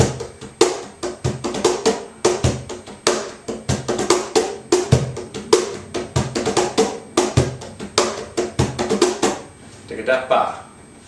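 A cajon is played by hand in a flowing sevillanas pattern of quick slaps and bass tones, ending with a brief voice.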